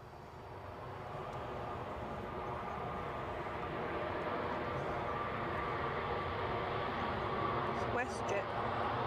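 A WestJet airliner arriving from Toronto lands at Edinburgh, its broad steady engine roar holding loud and constant throughout, with a voice talking over it.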